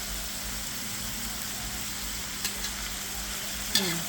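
Bamboo shoots and pork belly stir-frying in a pan make a continuous, even sizzle, with a couple of sharp scrapes of the spatula near the end.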